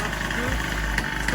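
A motocross bike's engine, just started for the first time, runs at a steady low idle, close and continuous for the whole moment without speech.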